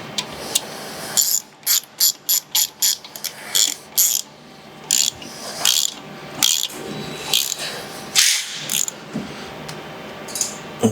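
A hand ratchet tightening the bolts on a Harley motorcycle wheel, sharp clicking bursts in quick repeated strokes with brief pauses between them, close and loud.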